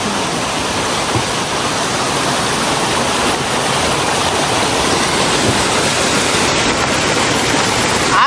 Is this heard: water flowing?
yes